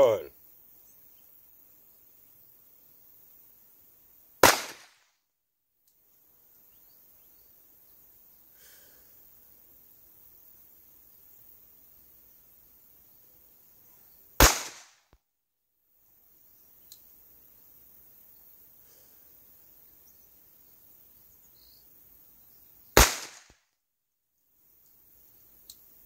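Rock Island 1911 9mm pistol shots on a range: three sharp, loud single reports spaced several seconds apart, with near silence and faint quiet sounds between them.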